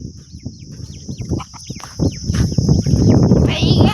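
Chickens cluck and call in a village farmyard in a series of short, close, repeated squawks, set against a steady background hum and louder shuffling and movement toward the end.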